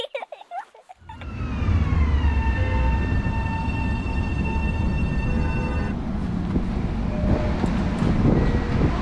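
Riding a commuter train toward Penn Station in New York on a cold day: after a short quiet moment, a loud steady rumble rises with a sustained whining tone, continuing as constant rail noise.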